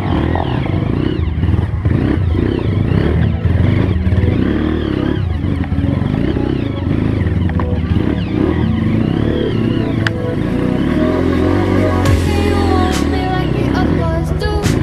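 A motorcycle engine revs and roars loudly and continuously, with clattering and scraping mixed in, during an outdoor stunt-riding session.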